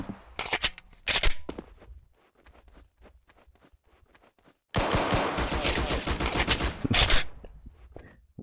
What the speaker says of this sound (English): Why are you still shooting?